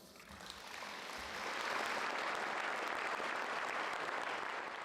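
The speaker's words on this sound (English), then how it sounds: "Give them another round of applause." An audience applauds after a presentation at an open house, clapping that starts moderate and swells into a dense, sustained round of applause filling the room, with no speech over it.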